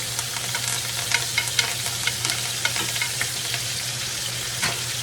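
Quail fries in hot brown butter with a steady, dense sizzle and scattered small pops and crackles, close and continuous, no talking.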